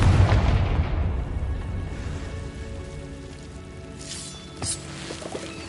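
A Confringo spell explosion in the Hogwarts Legacy video game lands as a deep, rumbling boom that slowly decays into a crackling tail, with a couple of smaller bright hits near the end.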